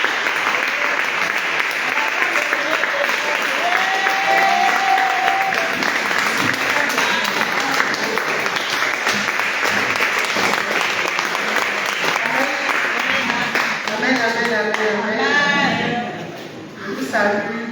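A church congregation claps steadily and loudly for the whole stretch, with voices mixed into the applause. The clapping thins and fades near the end.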